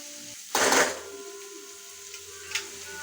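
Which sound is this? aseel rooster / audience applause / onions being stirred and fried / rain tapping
onions being stirred and fried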